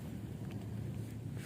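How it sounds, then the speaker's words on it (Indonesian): Strong seasonal wind buffets the microphone on the shore at Benoa, Bali, giving a low, continuous rumbling whoosh with gusty fluctuations and no talk. "Anginnya lumayan kencang hari ini."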